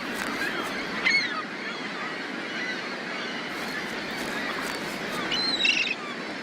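A gull breeding colony with chicks keeps up a chorus of honking, yelping calls, a few louder cries rising near the middle and end over a constant background din.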